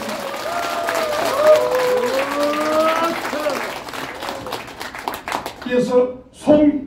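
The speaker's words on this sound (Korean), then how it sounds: "박수로 환영하겠습니다." An audience claps to welcome a presidential candidate at an event, a sustained round of applause with a voice talking over it before it fades into scattered claps.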